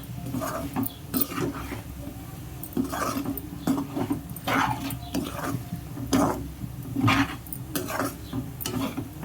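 Chicken pickle is stirred in a pot with masala powders, salt and chili powder, making a series of close, uneven scraping and clattering strokes with short pauses between them and no speech.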